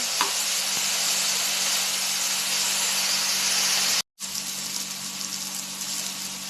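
Tomatoes sauté in a pan with a steady, loud, hissing sizzle that runs continuously, broken once by a brief silent cut before resuming.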